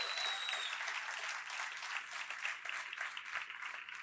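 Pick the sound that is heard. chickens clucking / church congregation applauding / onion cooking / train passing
church congregation applauding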